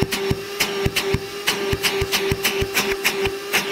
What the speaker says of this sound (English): it is enough suction to get the vacuum itself to flex.